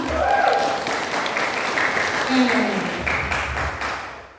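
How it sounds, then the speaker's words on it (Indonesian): An audience at an Indonesian network marketing seminar breaks into dense, sustained applause, many hands clapping at once, loud and close, with voices mixed in beneath. "Aplaus untuk kita semua."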